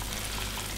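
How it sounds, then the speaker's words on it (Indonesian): Battered otak-otak fish cakes frying in hot oil, a steady close crackling sizzle that fills the whole short moment with no pauses and no voices. "langsung kita goreng yang otak-otaknya"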